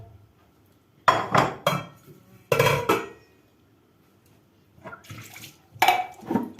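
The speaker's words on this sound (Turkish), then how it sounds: "tenceremi şu tarafa bir alayım" A metal pot clanks and scrapes against a surface in several separate bursts, close by, with quiet pauses between.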